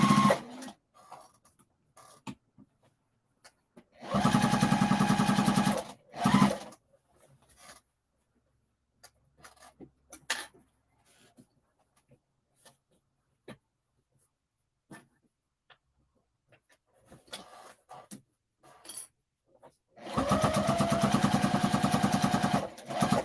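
A sewing machine stitches a seam in two bursts of steady mechanical whirring, one short and one longer, close and fairly loud, separated by long quiet stretches with small handling clicks.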